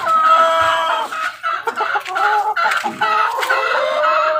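White chickens clucking close by, several hens cackling over each other in a busy coop, with no talking.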